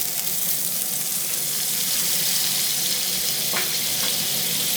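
Butter stirred into a pan of cumin spaghetti, giving a steady, even hiss of frying and sizzling with a faint scrape of stirring near the end. No one speaks.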